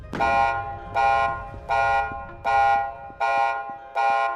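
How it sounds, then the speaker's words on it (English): An alarm in an Unreal Engine 5.7 game in development blares in six loud, evenly spaced buzzing pulses, each about half a second long, with no talk. "that alarm's a bit too strong."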